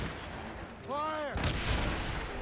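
A shouted order gives way to a loud burst of ship cannon fire in an Assassin's Creed Rogue sea battle, the booming volley continuing to the end.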